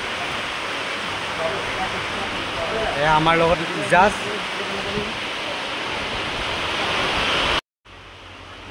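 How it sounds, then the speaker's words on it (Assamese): Heavy rain pours down at a railway station in Assam, a dense, steady hiss that fills the whole clip. Someone speaks briefly over it midway, and the sound cuts off abruptly near the end. "খুব জোৰে বৰষুণ দি আছে"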